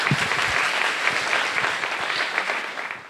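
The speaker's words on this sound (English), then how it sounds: "let's give them a round of applause and welcome them" Audience applause welcoming speakers at a Jewish leadership academy Zionism seminar, a steady wash of many hands clapping with a few sharper claps up close, continuing without a pause.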